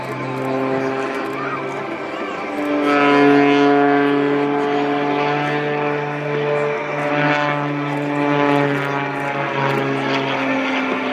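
A propeller aerobatic airplane flown by Rob Holland drones steadily with a strong harmonic engine tone, swelling louder and fading slightly as it maneuvers, heard continuously throughout, at the 2013 Bagotville air show.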